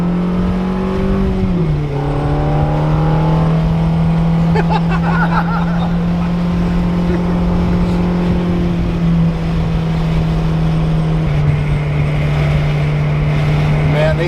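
A Ferrari F430 Berlinetta F1 V8 pulls hard from inside the car, its engine note climbing through a gear, dropping at the shift, then holding a steady, loud roar with a second rise near the end, while people talk over it.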